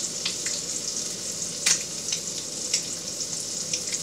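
Butter sizzles in a pan on high heat, a steady close crackle with small pops scattered through and no voices.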